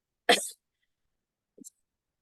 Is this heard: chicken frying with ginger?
no